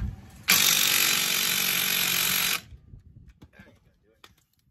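A loud, sustained mechanical whirring burst lasting about two seconds, then quieter scattered clicks and handling noises close by, during front brake work on a 1996–2000 Honda Civic.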